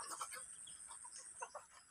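Chickens give short, bright clucking calls in quick bursts at a mangrove-side coop, fairly faint and close, with a steady high hiss running under them.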